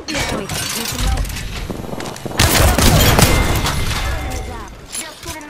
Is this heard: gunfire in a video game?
yes